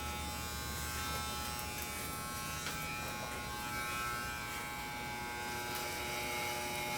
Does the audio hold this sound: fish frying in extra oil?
no